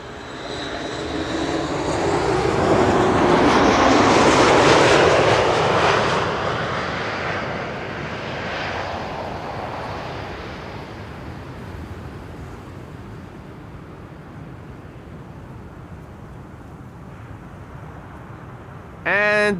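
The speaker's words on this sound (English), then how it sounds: "Next up, WestJet flight 70 arriving from Halifax in Canada." A WestJet Boeing 737 MAX 8 arriving at Schiphol on the Kaagbaan runway builds into a loud engine roar that peaks, then slowly fades into a long, distant rumble.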